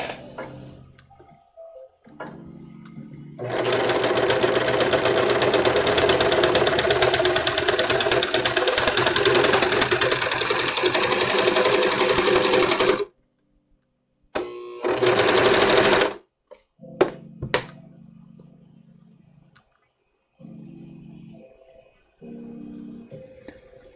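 A sewing machine stitches a symbiote suit, with the left needle's tension turned up, running in one long steady burst of about ten seconds, then a short second run, with scattered handling clicks and brief pauses around it.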